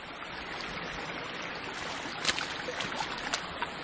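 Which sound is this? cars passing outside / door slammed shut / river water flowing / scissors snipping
river water flowing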